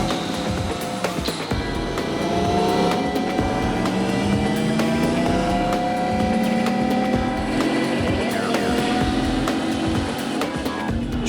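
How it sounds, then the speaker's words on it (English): An unmodified car's engine is held screaming at redline while a tire spins in place, a loud, sustained high-revving wail with pitch slowly drifting upward, harsh and continuous throughout. "Jamie redlines the engine for over a minute."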